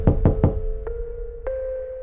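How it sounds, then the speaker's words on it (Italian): Three quick loud knocks, then two fainter, more spaced knocks, each leaving a ringing metallic resonance, standing in for knocking heard on the outside of a spacecraft. "Poi all'improvviso dall'esterno della navicella sentite bussare."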